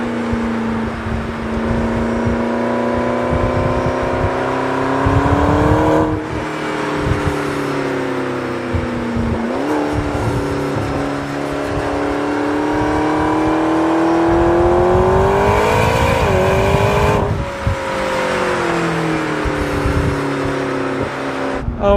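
A McLaren 650S Spider's twin-turbo engine revs loudly and continuously, its pitch rising and falling through several swells, with turbo blow-off whooshes between pulls, close and alone with no talk.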